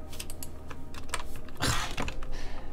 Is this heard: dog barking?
no